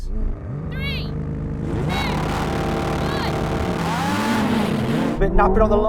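Ferrari 296, McLaren 750S, Lamborghini Huracan Performante and Porsche 911 Turbo launching together at a race start, engines droning and revving with rising and falling pitch, loud and close, under brief talk.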